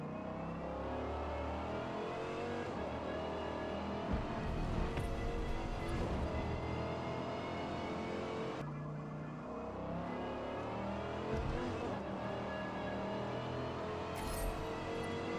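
A Dodge Viper engine roars continuously through a racing lap at Mid-Ohio in a driving video game, revving up and down through gear changes, loud and close with no talk.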